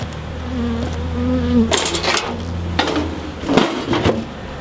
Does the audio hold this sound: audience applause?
no